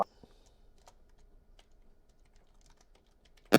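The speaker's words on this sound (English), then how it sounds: "all I'm doing is just clicking and just typing and then hit enter" Soft, sparse keyboard clicks tap intermittently in a quiet room, ending with a couple of louder sharp keystrokes.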